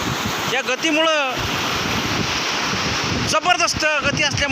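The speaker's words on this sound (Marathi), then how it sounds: "बघा लाटा धडकत आहेत या खडकांना" Waves from the flooded, fast-flowing Nira river crash against rocks with a loud, continuous roar, while wind buffets the microphone and voices call out over the rushing water.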